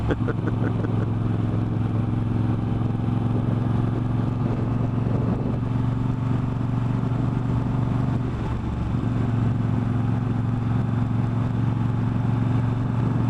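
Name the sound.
motorcycle riding over broken concrete roads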